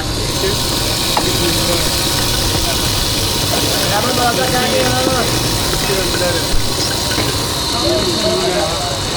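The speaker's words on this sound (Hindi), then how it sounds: "इन्होंने मोटर सी लगाई हुई है, लोकल मशीन है।" A local motor-driven machine running in a Faisalabad workshop gives a loud, steady whirring hum with hiss, while someone talks over it throughout.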